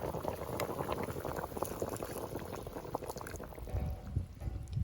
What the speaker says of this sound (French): On renverse notre velouté de mixture.